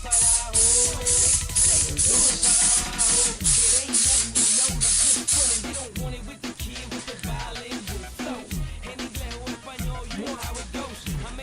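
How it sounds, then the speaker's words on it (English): Repeated bursts of 3M aerosol adhesive spray onto the inside of vinyl hiss in short pulses, followed by softer scattered spraying and faint handling noises. "spray the inside of the vinyl with a 3M spray"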